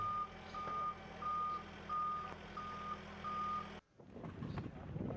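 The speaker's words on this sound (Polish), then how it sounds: "Wózek widłowy wyładowuje paletę z kartonami z ciężarówki ustawionej na placu." Steady, evenly spaced high-pitched forklift reversing beeps sound over a low engine rumble while it unloads a pallet of cartons from a truck in a yard, then stop abruptly, leaving quieter clattering and machinery noise.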